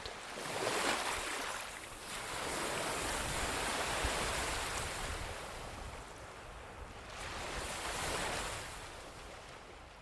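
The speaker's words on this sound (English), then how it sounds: "an adult sitting and watching the waves at sunrise on a beach in Florida" Ocean waves wash onto a Florida beach at sunrise, a steady, broad roar of surf that swells and recedes in slow surges, with some wind and no voices.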